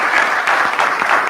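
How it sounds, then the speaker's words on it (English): An audience at a board of education meeting applauding teachers, dense steady clapping from a crowd with no speech. "You should really give them another round of applause."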